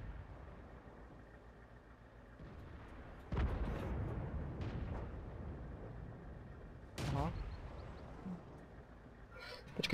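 Tank cannon fire in the video game World of Tanks: a few heavy booming shots spaced seconds apart, with rumbling battle ambience between them and quiet talk faintly underneath.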